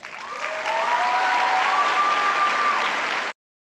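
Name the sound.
audience applause in played speech video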